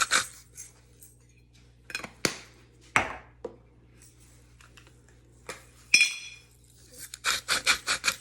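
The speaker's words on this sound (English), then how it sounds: "I'm gonna add a little crack of pepper" A pepper grinder cracking pepper over a bowl of hummus, a few scattered gritty turns at first, then a quick close burst of rasping grinds at the end.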